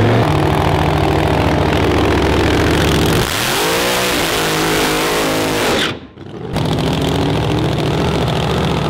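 A car engine roars loudly at high revs, rising and falling in pitch, then briefly cutting out before surging back to full throttle.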